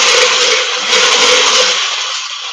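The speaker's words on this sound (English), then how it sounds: "let me whisk this up here" An electric mixer whirs steadily at high speed while salad dressing is whisked, a loud continuous buzz that holds for a couple of seconds before easing slightly, with no speech.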